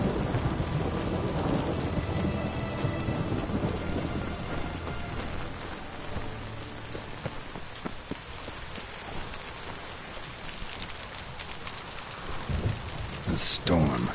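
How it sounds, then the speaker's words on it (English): Rain from a thunderstorm in the video game Witcher 3 pours steadily and densely, with low rumbles of thunder rolling underneath it. The hiss continues for the whole stretch, with no voices above it. "A storm, damn it."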